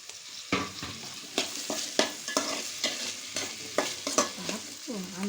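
Vegetables and tomato being stirred in a pot while cooking for vegetable biryani, with a spoon scraping and clanking in bursts over a steady frying sizzle, close up and with no talking.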